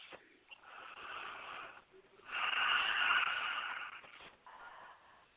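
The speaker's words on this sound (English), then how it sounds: "We want you to right now take a deep breath with us." A group takes a deep breath together at a kindness gathering: long airy inhales and exhales, soft and breathy, with brief pauses between, no talking.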